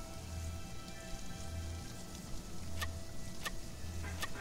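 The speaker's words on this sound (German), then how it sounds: "Oh, schwarzer Regen an der Oberfläche." Black rain pattering on the surface in the survival game Sheltered, a steady hiss of falling rain with faint low tones and a few sharp drips, with no voices.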